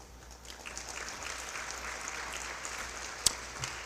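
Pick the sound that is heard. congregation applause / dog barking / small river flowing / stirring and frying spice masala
congregation applause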